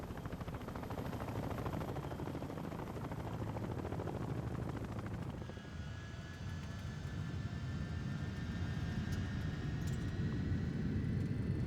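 A rescue helicopter flies continuously on a long mission to Haiti, its steady rotor and engine drone holding at an even level throughout with no voices.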